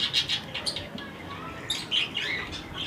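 Cockatiels at a bird shelter give a run of bright, close chirps and short squawky calls in uneven bursts, several birds calling over each other.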